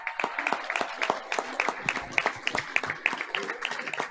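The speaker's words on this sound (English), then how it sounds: "Let's give another round of applause." An audience at a school board of education meeting applauds an honor choir, with close, uneven claps from a modest crowd and a murmur of voices underneath.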